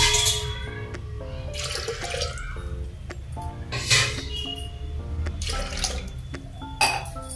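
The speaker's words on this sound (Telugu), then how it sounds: "గ్లాసున్నర వాటర్ వేస్తున్నాను." About a glass and a half of water poured into dal with turmeric in a pot, a close, continuous splashing pour with occasional clinks of a vessel against the pot.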